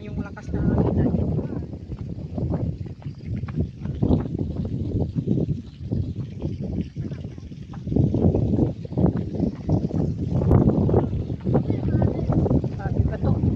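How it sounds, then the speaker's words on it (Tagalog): Strong gusting wind on a coastal hike at Cape d'Aguilar, rumbling and buffeting the microphone in loud, uneven surges that last throughout. "Start na yung lakas na hangin."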